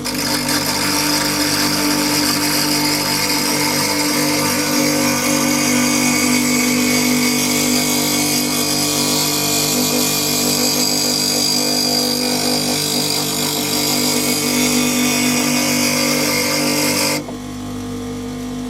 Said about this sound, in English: Start up my grinder and I start in the middle.